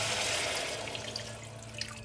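Water pours from a container into a pan while cooking escabeche, a Filipino sweet and sour fish, giving a steady close trickle that fades slightly near the end.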